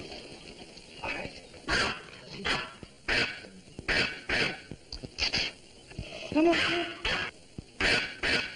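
A small dog barks in short, repeated yaps spread across the scene. It is fairly close, and voices talk in between and alongside it.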